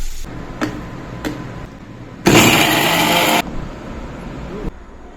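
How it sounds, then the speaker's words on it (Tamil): A mixer grinder roars loudly for about a second while grinding green chillies, with a few light clicks and knocks before and after the burst. "மிக்ஸில் அரைச்சி எடுத்துக்கலாம்."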